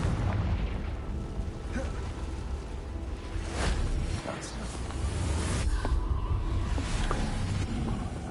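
Confringo blasting spells explode in Hogwarts Legacy, several booming bursts rising over a dense, noisy game soundscape of combat effects, with someone talking at points.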